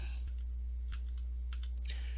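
Sharp, brief mouse clicks on a computer while navigating a tax filing website, several spaced taps across a couple of seconds against a faint steady hum, with no voices.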